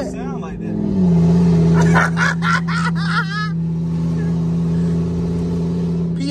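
A Dodge Hellcat engine rumbles loudly and steadily while driving, with a rise in revs near the start, under excited talk and other voices inside the car.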